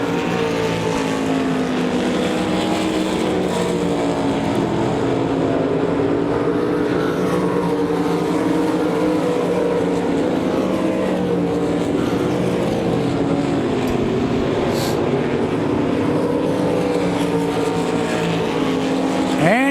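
Race cars roaring around Devil's Bowl Speedway, a dense continuous engine blare with overlapping rising and falling pitches as cars pass close by, loud and sustained throughout.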